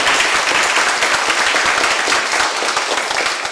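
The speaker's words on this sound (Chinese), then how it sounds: "咱在此用掌声来多谢英龙牧师吼" A church congregation at a Taiwanese-language Presbyterian Sunday service applauds, producing dense, loud, sustained clapping that fills the room without a break.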